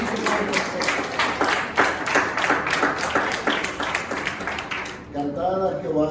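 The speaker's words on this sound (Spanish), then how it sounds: "démosle un fuerte aplauso a nuestro Dios" Church congregation clapping together in a dense, steady rhythm for about five seconds, loud and close, with voices mixed in; the clapping fades near the end as singing or speech takes over.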